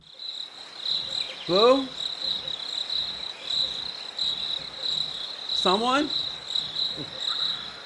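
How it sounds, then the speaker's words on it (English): A steady high cricket chirp runs throughout as a sound effect, loud and continuous, while someone speaks briefly over it. "Crickets. Look, crickets."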